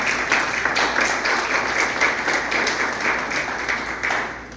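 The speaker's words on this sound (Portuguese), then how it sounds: "Aplauda o Eterno." A church congregation claps together in steady, dense applause throughout, moderately loud and even, with no talking over it.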